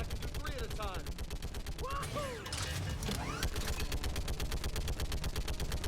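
Rapid turret gunfire in the Mass Effect video game, rattling bursts repeating steadily over continuous game sound and mechanical noise, with no talk.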